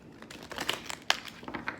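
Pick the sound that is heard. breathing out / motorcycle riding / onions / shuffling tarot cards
shuffling tarot cards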